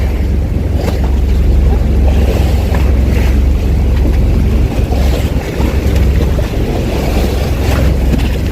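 Rough sea churns around a small boat off El Nido, Palawan, with a steady loud wash of waves, engine rumble and heavy wind buffeting the microphone throughout.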